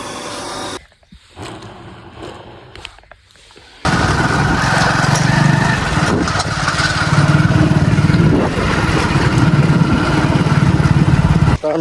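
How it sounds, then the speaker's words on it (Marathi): Electric water pump motor starts in a farm field at night and runs with a loud, steady drone close by after a few quieter seconds of faint sounds, with no talk. "आपली मोटर चालू झालेली तुम्ही बघू शकता."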